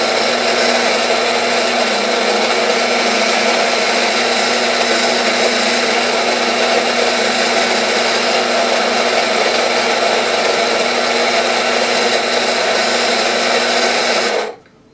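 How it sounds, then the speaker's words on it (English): A Rancilio Rocky doserless burr grinder grinds coffee straight into an espresso portafilter, giving a loud, steady motor whine with a gritty crunch that runs unbroken for about fourteen seconds, then stops abruptly. "So I'm just going to depress this button and grind my coffee."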